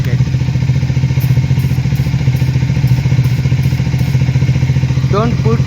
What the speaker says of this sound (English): So here you can see the bike is running, right?